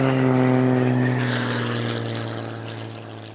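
A propeller airplane drones past with a steady, loud engine hum and whirring blades, heard up close at first and then slowly fading as it moves away.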